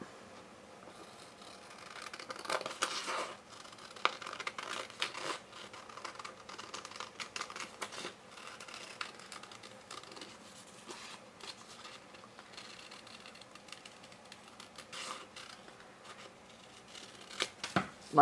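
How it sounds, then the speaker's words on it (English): Scissors snip through paper while cutting out a paper heart, a quiet, irregular series of close crisp snips and rustles with short pauses, no talk. "And then what we're going to do is cut it out."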